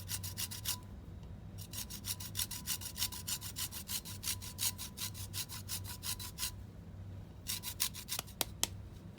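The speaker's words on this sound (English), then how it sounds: "So we've zested the lime" A lime rasped against a grater gives rapid, even scraping strokes in bursts with short pauses between them, close and fairly quiet, with no talking.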